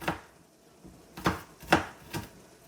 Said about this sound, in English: I just rotate it 90 degrees, right? And chop down through it.